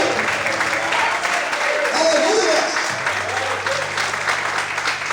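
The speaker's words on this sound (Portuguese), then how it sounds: "Glorifique e aplauda o Senhor nessa manhã." A church congregation applauds during a Portuguese-language worship service, a steady wash of many hands clapping at close range with some voices mixed in.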